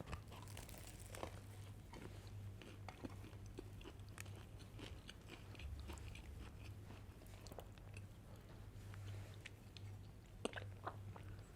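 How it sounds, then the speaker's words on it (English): Chewing and biting food close to the microphone, with faint crunchy, crinkly bites and mouth sounds scattered through a quiet stretch under a steady low hum. "I want to hear you chew."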